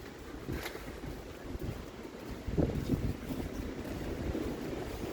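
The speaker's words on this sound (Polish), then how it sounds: "Ale wichura." Strong wind buffets the microphone in rough, rumbling gusts in Karpacz, rising and falling, with a louder surge midway and no voices.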